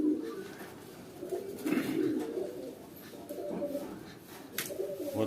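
Racing pigeons at a loft in Odisha, entered in a Khorda pigeon association summer tournament, cooing steadily and close by in low murmuring phrases, with faint background noise and no clear talk.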